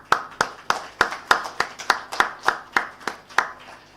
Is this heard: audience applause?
yes